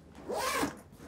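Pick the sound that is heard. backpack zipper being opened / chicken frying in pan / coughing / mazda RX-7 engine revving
backpack zipper being opened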